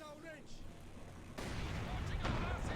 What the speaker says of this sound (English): Oh my god, that explosion was big. Caused debris to fly from multiple angles.